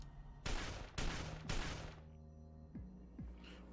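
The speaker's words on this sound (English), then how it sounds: "Bullets fly through the air." Three loud gunfire volleys crack in quick succession in the video game Code: Realize, each decaying into a ringing tail, followed by two softer thumps, fairly close, with no voices.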